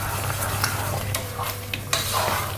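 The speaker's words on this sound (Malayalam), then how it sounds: "നന്നായിട്ട് ഇങ്ങനെ ഇളക്കി ഇത് കുറച്ചൊരു ഡ്രൈ ആവണ വരെ" Broken wheat cooked with jaggery, cardamom and ghee is stirred in a pan for Onam payasam, a steady soft scraping and sizzling with occasional spoon clinks, close and continuous with no talk.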